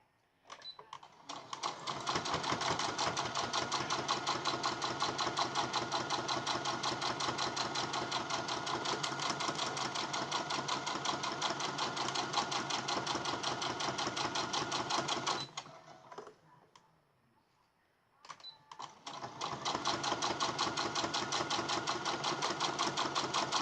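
A sewing machine runs in long steady bursts while chain piecing the handles of a small fabric gift bag, stitching rapidly and evenly, pausing briefly near the end before starting again.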